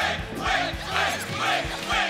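A tournament crowd at a Skullgirls 2nd Encore grand final chants and cheers in steady rhythmic waves, loud and continuous, with a few rising shouts over the hall noise.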